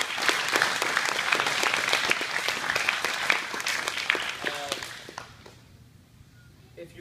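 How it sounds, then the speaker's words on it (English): A room full of people at a Brazilian jiu-jitsu academy claps in a lively burst of applause that fades out after about five seconds, leaving quiet room tone. "So big round of applause for everybody."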